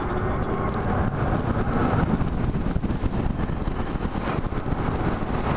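A Zero S 13.0 electric motorcycle rides along steadily, giving a continuous loud rush of wind and road noise with a faint motor whine underneath and no voices.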